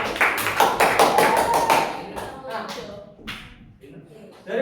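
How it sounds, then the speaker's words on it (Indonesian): Schoolchildren in a classroom clap for a group of classmates, a quick burst of sharp overlapping claps that thins out and fades to a few scattered taps. "Tepuk tangan untuk kelompok berapa ini?"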